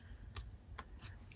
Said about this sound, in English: we'll tear that side, and we'll tear this side.